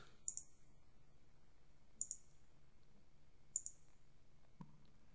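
Computer mouse clicks, three crisp close double clicks spaced evenly apart over quiet room tone, with a soft bump near the end and no talk.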